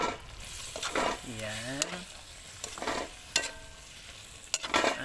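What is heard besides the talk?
stirring ginataang puso with eggplant in a pan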